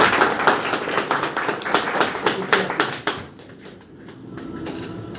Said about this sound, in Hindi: तो सबसे पहले तो मैं चाहता हूं कि एक बार जोरदार ताली आप लोग अपने लिए बजाएं